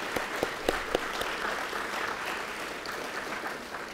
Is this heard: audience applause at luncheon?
yes